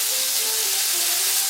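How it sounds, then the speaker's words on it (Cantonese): Beef sizzles in a wok over high heat, a steady dense frying hiss with faint tonal hums running underneath, close and continuous throughout. "將啲牛肉喺雪櫃度攞咗出嚟啦，快手將佢放落個鑊度，轉去個大火啦"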